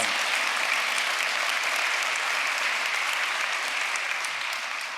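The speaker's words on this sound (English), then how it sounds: "Big round of applause." Steady audience applause after a civic talk on city design, dense and even clapping from a full room that holds at a constant level for the whole stretch with no voices over it.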